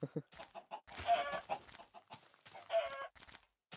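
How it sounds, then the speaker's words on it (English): Several chickens in a video game cluck in short, scattered bursts, close and fairly quiet, with brief pauses between calls. "Why so many chickens?"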